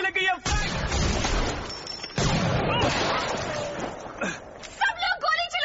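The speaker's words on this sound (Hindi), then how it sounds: "सब लोग गोली चलाना बंद करो।" Loud bursts of gunfire ring out in a tense, noisy scene from the movie Free Fire, dubbed in Hindi, while people shout and talk over the shots.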